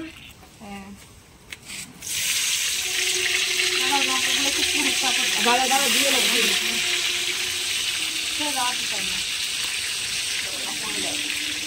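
Panch phoron spices spluttering and crackling in hot oil at an outdoor neighbourhood picnic, a steady broad sizzle running from about two seconds on, with people talking nearby over it.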